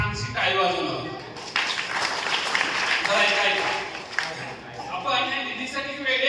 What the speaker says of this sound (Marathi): या निधीसाठी आपण एक छानशी टाळी वाजवलं